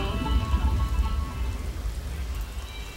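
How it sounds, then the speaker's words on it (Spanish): Heavy rain in The Sims 2 video game, a steady dense patter and hiss of falling rain, moderately loud and continuous throughout. "Está fuerte la lluvia."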